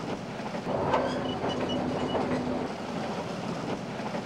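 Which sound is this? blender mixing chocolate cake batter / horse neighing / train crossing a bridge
train crossing a bridge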